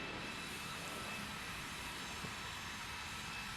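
Steady, continuous jet engine rumble and whine from a CRJ700 regional jet taxiing toward the runway in a flight simulator, a constant droning hum with no talk.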